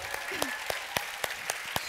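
An audience claps after a presentation at a school event, with sparse, evenly spaced, distinct claps ringing out over a low room murmur.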